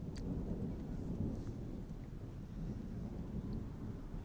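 Thunderstorm with hail outdoors, a deep continuous rumble of thunder over rain and gusting wind buffeting the microphone, loud and close with no voices.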